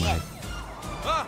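A police car siren in a South Park episode, a loud wailing sweep that rises and falls over about a second, close, with a brief voice in the mix.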